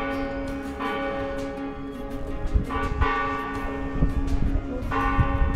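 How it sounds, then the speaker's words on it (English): Church bells ring out in the Spanish pilgrim village of Roncesvalles on the Camino Francés, repeated strikes layered over a sustained humming resonance, fairly loud and steady with no talking. "The bells are ringing in Roncesvalles."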